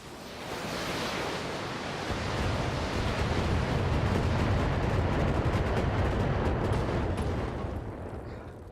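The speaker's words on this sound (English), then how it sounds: "we'll fire over the top at the LRM turret" LRM missile volleys fired by mechs at a turret in the video game Battletech, a dense, roaring wash of rumbling launches that swells and holds loud for several seconds with no talk over it.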